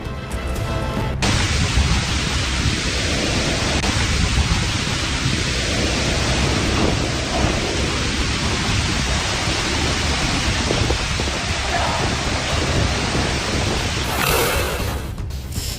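Heavy, steady torrential rain from a typhoon pours without letup, a dense roaring wash of noise with a low rumble underneath, loud and close throughout.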